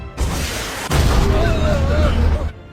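A sudden heavy blast from an RPG rocket explosion bursts in, followed by a rumbling roar and crackle that lingers for over a second before cutting off.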